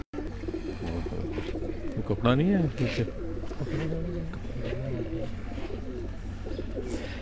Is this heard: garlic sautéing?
no